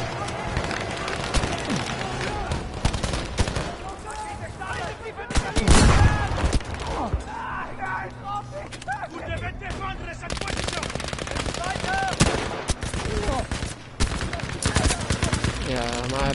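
Machine gun fire in Battlefield V, with dense rapid bursts and scattered shots from the game running nearly continuously, loud and close, while someone talks over it.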